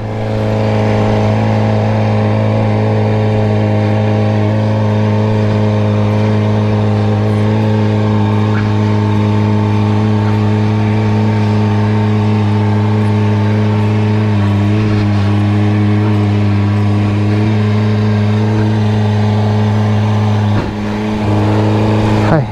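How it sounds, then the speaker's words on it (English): A car engine with an exhaust leak drones loudly and steadily up close, a continuous, heavy, buzzing hum that holds nearly level for the whole stretch without clear revving peaks. "Hate that exhaust leak. How much smoke it's blowing out."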